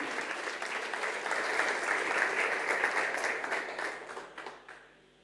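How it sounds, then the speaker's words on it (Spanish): A church congregation breaks into sustained, dense applause, many hands clapping together at a steady level before fading out near the end. "Den un aplauso a esta palabra."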